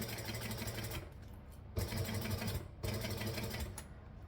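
Sewing machine stitching slowly through a thick multi-layer seam, a steady close mechanical whir with two brief pauses where the stitching stops and restarts.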